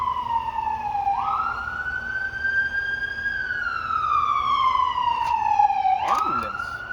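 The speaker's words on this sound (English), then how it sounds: "Ambulance." An ambulance siren wails outdoors in a slow rising and falling sweep over steady background noise, ending with a few sharp clicks.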